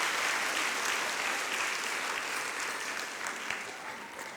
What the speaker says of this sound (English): let's give a round of applause to my volunteers